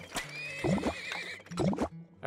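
In the video game Turmoil, a horse gives two loud, close whinnies in quick succession, each a wavering high neigh, with a soft extra sound at the very end.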